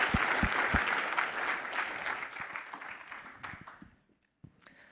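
Applause from an audience at an award spotlight event fills the room, dense clapping that thins out over several seconds, fades to near silence, then ends with a few scattered claps.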